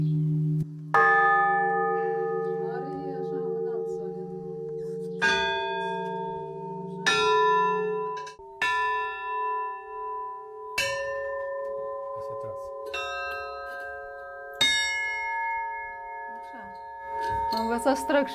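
An old church bell made in Yaroslavl rings in a history and ethnography museum, several loud struck tones with long shimmering decays, close by, while a person speaks at the start.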